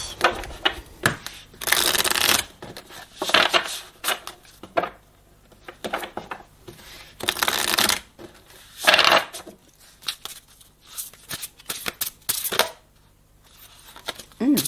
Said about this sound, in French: Nous voilà pour un tirage express avec le langage secret des couleurs de Ina Segal.